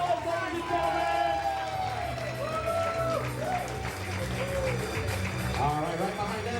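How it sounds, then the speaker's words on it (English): Wedding guests clap and cheer at a reception as a couple is announced, a dense crowd of applause and whoops under loud announcer-style talk and music throughout. "Keep them hands clapping. I want to hear you get crazy."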